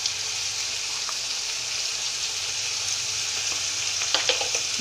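Ground yellow mustard paste fries in a pan with a steady, close sizzle and bubbling, with a few stirring scrapes and clinks toward the end.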